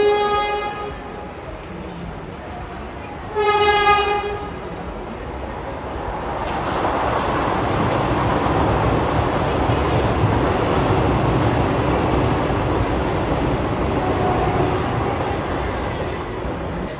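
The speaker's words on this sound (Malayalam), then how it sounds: "ചെന്നൈ കോയമ്പത്തൂർ വന്ദേ ഭാരതാണ് ഇപ്പോൾ പോയത്." The Chennai–Coimbatore Vande Bharat express train sounds a short horn blast, then rushes past with a swelling, steady roar of wheels and air that holds for several seconds before easing slightly.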